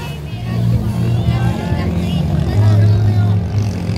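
A boat engine on open sea drones loudly and unevenly under excited talk and crowd chatter, its low hum wavering as it falters.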